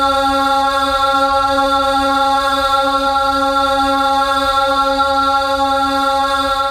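A dense, steady choir-like drone built from layered tape loops of one sung vocal note, holding continuously and loudly with no breaks or talk.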